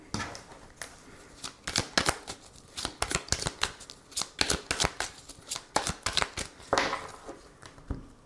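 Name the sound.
shuffling and cutting tarot cards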